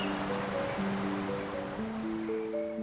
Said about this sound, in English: water falling endlessly over ancient rock. The sound is constant, strong, grounding.